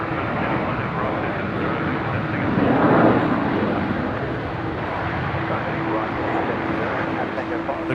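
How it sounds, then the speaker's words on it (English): A Dassault Falcon business jet taxis at Brisbane Airport, its steady engine roar and whine heard from a distance and swelling briefly, under a voice talking over it. "Looks like the Dassault Falcon on the move"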